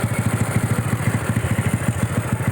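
A modified Honda MSX motorcycle with an upgraded cam, upper valve and carburettor runs at a steady idle, its close, loud engine thumping in a fast, even, lumpy pulse.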